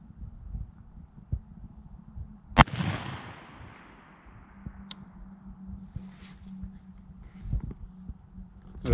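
A single loud gunshot rings out at outdoor target practice in the snow, and its echo trails off slowly. Fainter clicks, thuds and footsteps follow in the quiet, and no one speaks.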